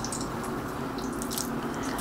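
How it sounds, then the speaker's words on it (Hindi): Marinated fish fillets, Lahori-style, frying in hot oil over medium heat, giving a steady, continuous sizzle and crackle close up with no talking. "ऑयल हमारा गरम हो गया था, अब मैंने जो फ़िश है इसको ऐड कर दिया है।"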